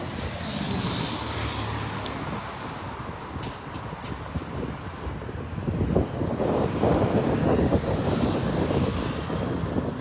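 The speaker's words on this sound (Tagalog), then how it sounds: "Mahangin na para." Steady wind roars and buffets over open water during a fishing trip, a broad continuous rush that swells louder in the second half, with faint splashing beneath and no talk.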